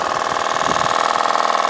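A Stuart Isis model steam engine runs steadily off a gas-fired boiler, giving a continuous, even mechanical chug with a fine rhythmic beat that stays close and fairly loud throughout.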